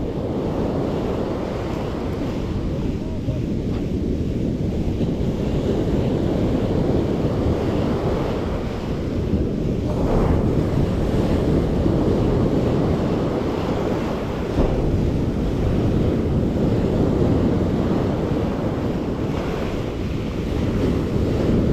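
Sea waves breaking on the Karasu shore during shore fishing, a loud continuous roar of surf mixed with heavy wind buffeting the microphone.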